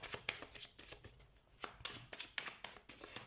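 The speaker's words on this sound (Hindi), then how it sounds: "सबसे पहले हम टैरो कार्ड शफल कर लेते हैं।" A deck of tarot cards being shuffled by hand at close range, with quick riffling bursts and soft taps repeating in an uneven rhythm.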